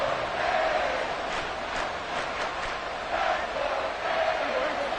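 Stadium crowd roaring steadily in the Madden 24 American football video game, a loud continuous wall of noise that swells and surges in waves over about five seconds with no talk over it.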